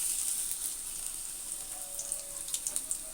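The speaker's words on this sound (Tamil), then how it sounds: "ஜீரகம் நல்லா பொரிஞ்சிடுச்சு." Cumin and small chopped pieces of ginger fry in hot oil with a soft, steady high hiss and a few faint crackles toward the end, quiet and with no talking.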